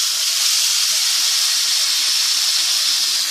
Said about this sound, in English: just starting to get a nice sear on it